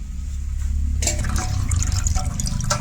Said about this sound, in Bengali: জাবড়াটা ওখানে আটকে গেল জুড়ির মধ্যে, আর নিচে দিয়ে জলটা গেল গিয়া।